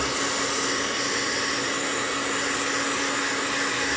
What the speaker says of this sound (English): And then I dry them out with a hairdryer.